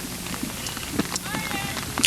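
Rain falling during a 1998 Little League baseball game between the Tigers and Braves: a steady outdoor hiss with scattered patters runs under a commentator's talk.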